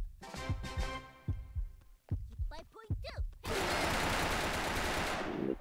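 Gunfire in the blocky Minecraft-style shooter Brick Force: several sharp separate shots, then a sustained loud burst of rapid fire that runs to the end, with a voice heard earlier.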